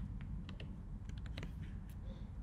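Quiet computer keyboard keystrokes and mouse clicks during a Photoshop editing session, a few scattered soft taps over a low background hum.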